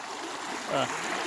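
Gurgling river water streams through a farm field after a flood, a steady close wash with a brief voice or splash rising briefly in the middle.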